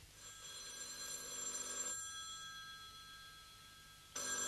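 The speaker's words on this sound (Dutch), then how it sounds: "Ach, neem jij de telefoon even, Roger." An old-style telephone bell rings steadily in an office setting, a continuous bright jangle that stops partway, then briefly resumes at the end; no one speaks.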